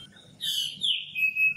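Among trees in bloom with gulmohar, sonmohar and silk-cotton flowers, a bulbul gives a clear, rich phrase of several notes that ends in a long, sustained whistle, close and distinct over a quiet background.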